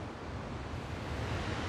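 Waterfalls on a road trip toward Nelson, a steady, dense rushing roar of falling water with no gaps, close and loud throughout.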